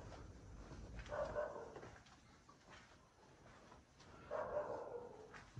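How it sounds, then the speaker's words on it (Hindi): Dogs bark in the distance at night near a reportedly haunted house, two muffled bursts of barking spaced a few seconds apart over faint background noise. "कुत्तों की भौंकने की आवाज़ आ रही है, शायद उन्हें पता ना चल गया हो।"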